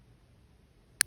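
A single sharp, crisp snip of wire cutters cutting through wire for a wrapped cabochon bracelet, brief and close after near silence.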